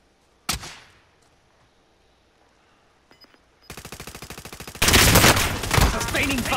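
Gunfire in the video game Call of Duty: Modern Warfare: a single loud shot, a few scattered faint pops, then a rapid automatic burst followed by heavier sustained fire.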